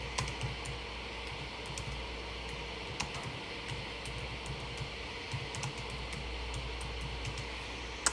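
Steady typing on a computer keyboard, entering shirt text for a Cricut design, with continuous quiet key clicks at an even pace and no voices.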